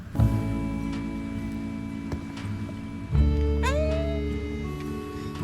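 A cat caught out in the rain in western Japan gives a short rising meow midway, with softer mewing around it, all over a steady tonal background hum.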